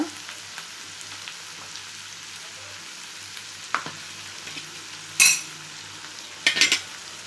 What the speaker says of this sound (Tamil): இப்போ இது கூட தக்காளி பழம் 2 நல்லா வதங்கி வரட்டுங்க